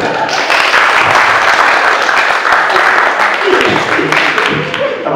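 Audience applause at a student council plenary session, steady, dense clapping from a crowded hall that continues throughout at a loud, even level, with some voices mixed in.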